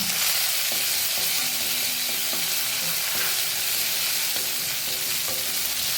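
Green chillies and finely chopped ingredients stir and sizzle steadily in hot oil in a pan for a cucumber kadabu, with a spoon scraping and clinking against the pan in a loose, repeating rhythm.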